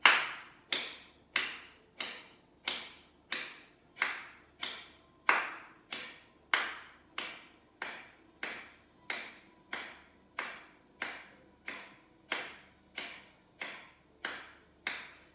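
Hands clap steadily to keep count during a yoga breathing exercise, a long, even series of sharp single claps roughly every half second, close and clear with no talking.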